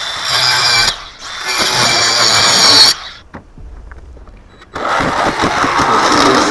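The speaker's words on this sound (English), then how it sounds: "I never liked jigsaws, but this one from DeWalt, very smooth." DeWalt jigsaw cutting panels, a steady buzzing saw whine in two runs of about two and three seconds, a quieter gap with faint clicks, then the cutting whine returns loud and close.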